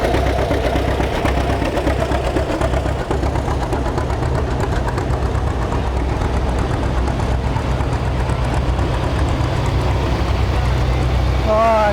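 A 420 diesel tractor engine runs at a cotton gin festival, a steady low idling chug with outdoor crowd noise and occasional voices mixed in.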